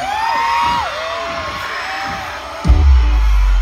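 A concert crowd at an outdoor family-day show shouts and cheers with whoops rising and falling across the clip, loud and fairly close, with a heavy low thump near the end.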